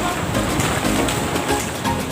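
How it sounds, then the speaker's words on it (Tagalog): Big sea waves surge and crash offshore in rough water while crab fishermen work, a loud, continuous broadband wash of surf with no pause across the short stretch. "Ang lakas ng alon."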